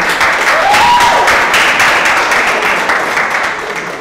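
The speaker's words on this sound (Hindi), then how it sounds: "रोहित भाई का एक बार जोरदार तालियां रोहित भाई के लिए।" A crowd at an open mic show claps loudly for Rohit, dense continuous applause holding strong for about four seconds before easing slightly, with a faint whistle-like tone near the start.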